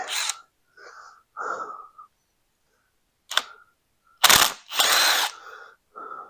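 A ratchet wrench working old bolts on a 1940 Chevy engine during teardown gives several short bursts of rapid clicking, close and fairly loud, separated by brief silences.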